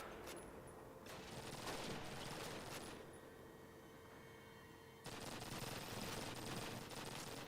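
Rapid gunfire from teammates shooting down out of windows in Call of Duty, a steady automatic clatter that continues without a break and steps up louder partway through.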